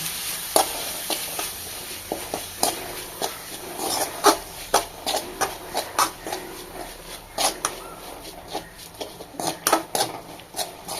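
A spoon stirring prawn roast in a pan, with repeated close scraping and knocking strokes in an uneven rhythm over a low sizzle.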